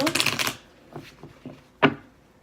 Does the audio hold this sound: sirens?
no